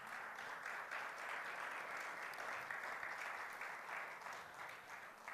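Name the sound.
audience applause in church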